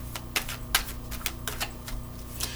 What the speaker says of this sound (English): I'm gonna pull 2 more cards.